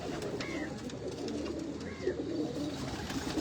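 Pigeons coo softly at a distance in a loft setting, two low rolling calls over a quiet, murmuring background.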